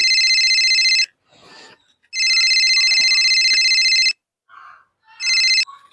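A telephone rings in loud repeated electronic trills, three bursts with brief gaps, and muffled background sounds fill the pauses.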